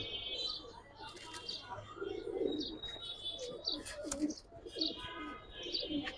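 Giribaz tumbler and coloured pigeons coo softly in low, repeated phrases, mixed with scattered higher chirps and faint background murmur.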